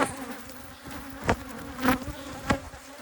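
Honeybees swarming out of a hive fill the air with a steady insect buzz, broken by a few louder passes as single bees fly close by.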